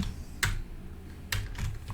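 A computer keyboard is typed on up close while PHP code is entered, giving a few short bursts of keystrokes separated by brief pauses.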